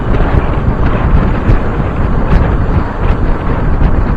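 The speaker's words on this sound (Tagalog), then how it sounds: "Lakas ng hangin ngayon, grabe." Loud, constant wind buffeting the microphone outdoors at the UP Diliman campus in the Philippines, a rough roaring rumble with occasional gusts, drowning out everything else.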